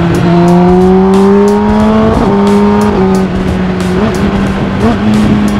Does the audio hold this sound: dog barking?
no